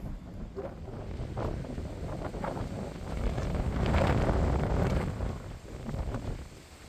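Strong wind buffets the microphone on the Cape Town shore near Camps Bay beach, a loud continuous roar that swells to a peak midway and then eases.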